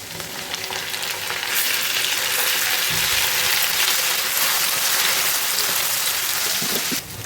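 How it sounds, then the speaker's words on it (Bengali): Onion paste added to hot oil with already fried chopped onions, a loud, dense, rain-like sizzle that swells after a few seconds and holds steady, with no voices. "এখন আমি এর মধ্যে পেঁয়াজ বাটা দিয়ে দিলাম।"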